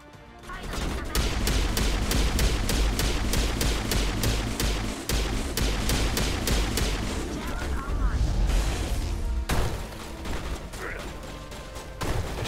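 Rapid bursts of shotgun fire in Mass Effect Legendary Edition's Virmire battle, a dense, loud barrage of repeated blasts running almost continuously, with voices talking over the shooting.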